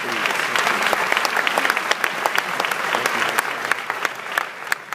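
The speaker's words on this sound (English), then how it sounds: "Yeah, you can clap for that." Sustained applause from a large audience, dense steady clapping with a few sharper claps standing out, loud and continuous throughout.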